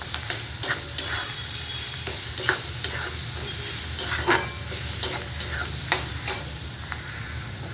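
Ginger-garlic paste fries with onions in a pan, giving a steady close sizzle broken by repeated scraping and clinking as a spoon stirs the mixture.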